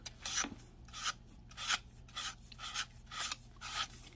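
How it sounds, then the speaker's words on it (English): Sandpaper rasping back and forth over the plastic of a 1969 Dodge Charger R/T model kit in steady strokes, about eight light passes with short pauses between them, close up and without talk. "Let the sandpaper do the work."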